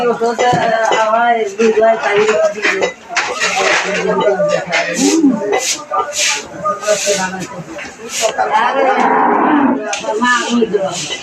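A cow moos loudly and repeatedly, close by, while people talk over and around the lowing; its calf is nearby.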